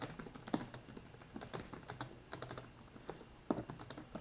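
Close, quiet typing on a Moshi Luna keyboard, a low-noise touch keyboard. Soft, irregular key clicks come in quick, uneven runs with small pauses, and no one speaks.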